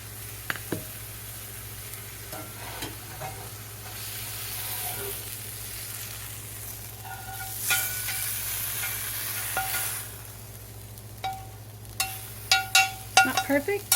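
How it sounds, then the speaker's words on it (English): Fish sizzles and fries in a skillet while a utensil stirs and scrapes it, lifting it out; a steady low hum runs beneath, with sharper scraping clicks near the end. "So I'm going to get it out of the skillet and onto the plate."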